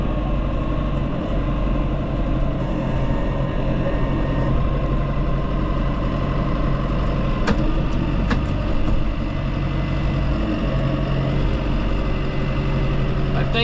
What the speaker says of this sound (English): So the tractor's here.